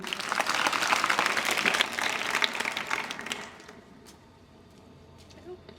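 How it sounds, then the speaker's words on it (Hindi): Students at an inter college in Mainpuri clap loudly for a girl. A dense burst of applause fills the room for about three seconds, then fades to scattered claps and quiet room noise. "दीदी के लिए जोरदार ताली बजाओ।"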